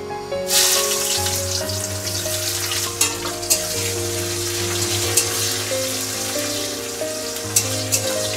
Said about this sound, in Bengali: পেঁয়াজটাকেও আমি একটু সোনালি কালার করে ভেজে নেব